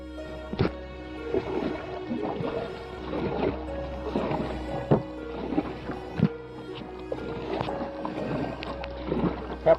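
A kayak is paddled across slightly choppy Lake Weyba, with rhythmic splashes and gurgles from the paddle strokes over a low, steady wind rumble, close to the boat and fairly loud.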